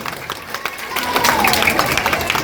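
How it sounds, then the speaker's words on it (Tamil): Audience clapping at a Tamil debate stage show, a dense burst of hand claps from the crowd, continuous and fairly loud, mixed with some crowd noise. "நல்லா தட்டாங்க."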